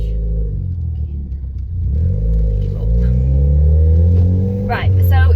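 A Ford Fiesta ST engine builds a low, rising rumble as the car accelerates, with steady revving under a voice talking throughout.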